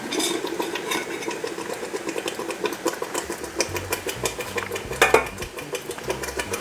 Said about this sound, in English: I'm bringing this back to a boil, and I have to stir it, keep it stirred